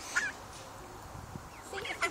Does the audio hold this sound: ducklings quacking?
yes